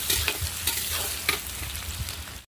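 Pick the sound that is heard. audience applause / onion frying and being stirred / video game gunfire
onion frying and being stirred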